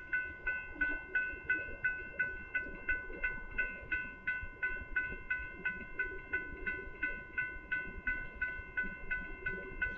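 A northbound Union Pacific mixed freight train rolls past on Oltorf Street in Austin, Texas, its wheels clicking in a steady repeating rhythm over rail joints with a ringing tonal whine throughout, moderately distant and with no voices.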